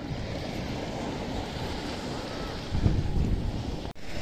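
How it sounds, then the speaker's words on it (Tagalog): Big ocean waves surge and wash around a boat at sea while strong wind roars across the microphone, forming a constant loud rush with a heavier swell near the end and no voices. "Ayan, ang laki na alon"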